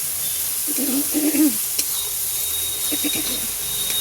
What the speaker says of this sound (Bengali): এবার আমি একটু কষিয়ে নেবো